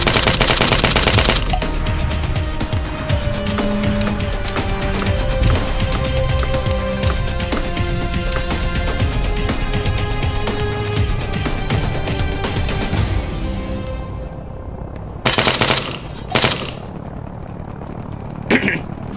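Rapid automatic gunfire rattles almost nonstop in a close-range firefight in the military shooter Arma 3, then cuts off, leaving a few isolated bursts near the end, with game engine and aircraft noise underneath.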